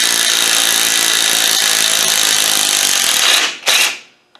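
A power tool with a socket spins loose the back cover bolts on a Land Rover 200Tdi gearbox, a loud steady buzzing whir that stops abruptly near the end, then a short second burst before fading out.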